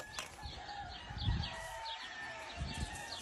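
A black rooster crows at a California farm, faint and somewhat distant over low rustling and clucking ambience, with a few drawn-out calls across the short stretch.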